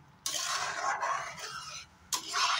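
A spoon stirring chukai fruit chutney in a pan, producing a few scraping, rasping strokes in separate bursts, close and fairly quiet, with no talking.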